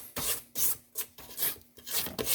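A spatula scrapes cake batter for a margarita pound cake down the sides of a mixing bowl in five or six rasping strokes, close and fairly loud, each pulled stroke separated by short pauses.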